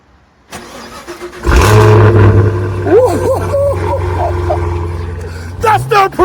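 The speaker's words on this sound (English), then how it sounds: "Now we gonna get a cold start." A brand-new 2026 Cadillac CT5 Blackwing V in electric blue fires up from cold with a sharp starter whir and loud exhaust bark, then settles into a heavy, close idle rumble as someone talks excitedly over it.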